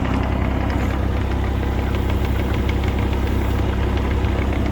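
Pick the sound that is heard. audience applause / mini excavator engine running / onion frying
mini excavator engine running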